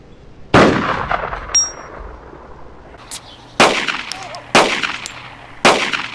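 Four sharp, loud gunshots from the video game DayZ, spaced about a second apart, each cracking with a short echoing tail in an otherwise quiet scene.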